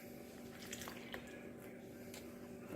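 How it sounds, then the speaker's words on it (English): Half a cup of room-temperature water is poured onto bread dough mixed with instant yeast, making a faint, soft squishing and dripping sound over a steady background hum. "Then we're going to add a half cup of room temperature water."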